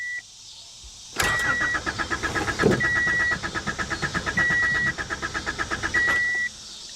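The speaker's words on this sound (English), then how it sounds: "Well, she cranks." A 1985 Honda Accord with 62K miles and an empty fuel tank cranks repeatedly without catching, the starter whirring in rhythmic pulses over several seconds, with a few high beeps, close and loud.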